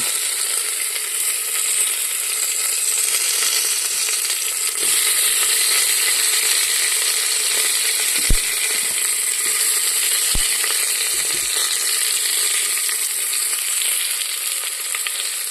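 Crushed ginger and onion frying in a pan, a loud, steady, close hiss of sizzling oil that runs without pause, with a couple of faint knocks and no voices.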